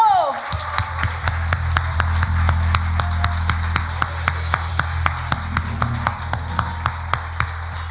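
A church congregation at a worship service claps steadily in rhythm, sharp regular beats over a low musical hum and background voices, continuing throughout.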